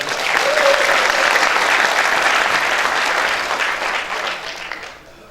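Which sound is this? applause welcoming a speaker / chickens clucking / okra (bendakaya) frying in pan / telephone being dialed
applause welcoming a speaker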